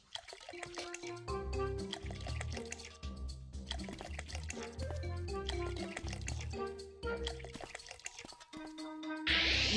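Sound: unicorn pet drinking water in video game PK XD

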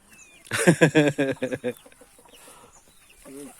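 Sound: chickens clucking in a coop

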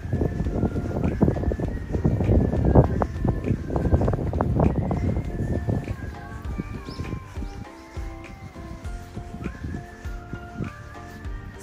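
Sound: wind blowing outdoors

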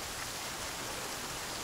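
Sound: rain falling in the video game The Flame in the Flood

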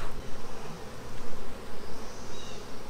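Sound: honeybees buzzing at their hive

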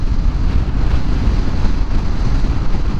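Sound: strong wind

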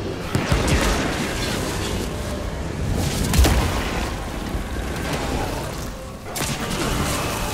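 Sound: grenade explosions in the video game Evil West

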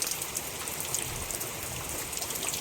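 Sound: rain falling

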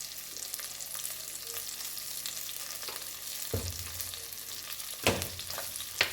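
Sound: spice powder frying in oil for bitter gourd curry

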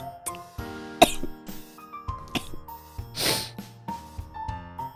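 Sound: coughing

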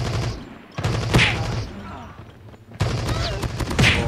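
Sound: machine gun fire in video game Call of Duty Mobile

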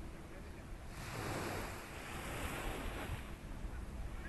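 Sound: sea waves at Sunset Beach, Chatan, Okinawa

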